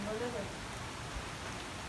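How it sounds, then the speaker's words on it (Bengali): Light drizzle falls at a village home on a cloudy day, a faint, even hiss of soft rain with no distinct drops or thunder. "ঝিম ঝিম করে বৃষ্টি নামতেছে, জোরে না"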